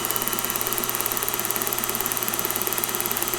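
A tractor magneto being spun on a test stand gives a fast, even train of sharp mechanical ticks over a steady motor hum, loud and close with no talk.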